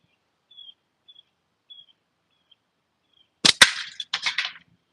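A slingshot shot strikes a can and cuts through it, one sharp loud crack followed by a short rattling burst, after several faint tiny chirps in near silence.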